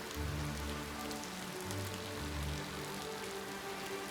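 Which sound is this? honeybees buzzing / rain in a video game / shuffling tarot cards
rain in a video game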